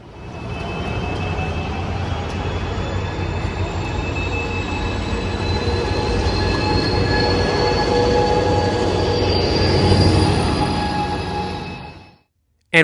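An Amtrak Pacific Surfliner train at Anaheim station rumbles loudly and steadily, with whining tonal hums and a wheel squeal rising through the passage before the sound cuts off abruptly.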